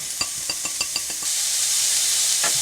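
Onions hitting olive oil in a hot skillet over medium-high heat: a few quick clinks of a utensil, then a steady, loud, close sizzle that keeps going.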